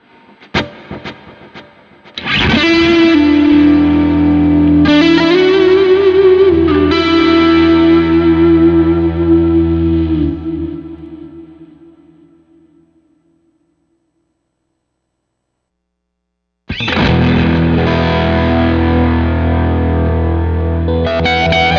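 Sustained electric guitar notes through two delay effects on a TONEX pedal, drenched in layered delay repeats, loud and distorted, ringing out and decaying into silence before a final strummed chord rings again.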